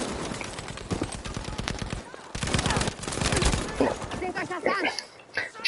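Gunshots during a competitive video game match, rapid bursts of fire scattered across the clip and mixed with loud game effects.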